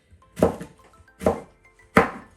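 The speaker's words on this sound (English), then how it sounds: "cut the carrots in slices first. And then, same, we're going to cut them" Three crisp knife chops on a cutting board as carrots are sliced into strips, each a sharp thunk followed by a short decay, evenly spaced and close with no talking.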